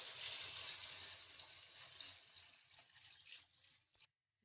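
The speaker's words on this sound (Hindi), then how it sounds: "अब इसके अंदर मैं पानी शामिल कर रही हूँ।" Water pours into a pot of goat trotters, a steady hissing splash close by that gradually weakens and stops abruptly, with no one talking.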